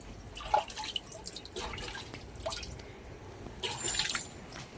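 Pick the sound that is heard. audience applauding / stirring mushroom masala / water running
water running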